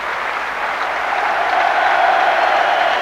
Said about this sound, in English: Richard Snakers goes off to warm applause